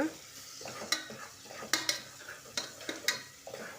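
Salted onion pieces frying in a pan give off a steady sizzle, while a spoon stirs them in a series of sharp scraping strokes. The sound is close and continuous, with no talking.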